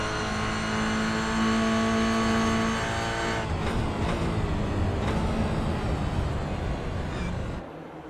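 Race cars in the iRacing sim, Toyota GR86 cup cars at Canadian Tire Motorsport Park, with a steady engine drone at high revs that holds strong and then shifts as the cars pass, loud and continuous throughout.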